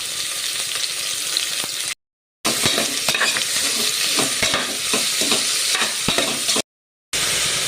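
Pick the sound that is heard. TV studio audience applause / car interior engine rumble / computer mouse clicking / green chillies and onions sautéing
green chillies and onions sautéing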